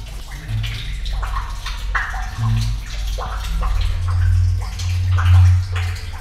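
Water from a newly dug well surges out in a loud, continuous rush with deep gurgling pulses, close by and steady throughout, with no voices heard over the flow.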